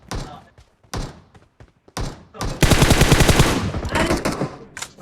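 M760 shotgun fire in a video game gives scattered single booming shots, followed by a dense, rapid volley of blasts and thuds.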